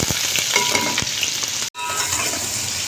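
Steady, close sizzling of onions frying in a hot pan, with occasional scrapes and stirs and one brief cut in the sound.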